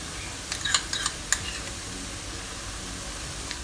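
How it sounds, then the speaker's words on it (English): Ginger and garlic frying in oil, stirred with a utensil: a low steady sizzle broken by a handful of sharp clicks and scrapes against the pan early on, then quieter frying. "Remember to keep stirring them, we don't want to burn them."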